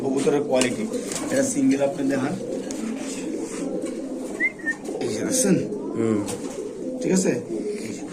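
Pigeons coo repeatedly in the background while people talk nearby, their low murmuring calls rising and falling under the conversation.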